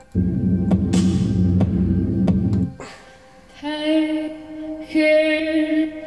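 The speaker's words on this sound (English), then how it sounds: "I've made a kind of drone" A low, sustained organ-like synth drone with a throbbing pulse, followed by brighter sustained tones layered above it.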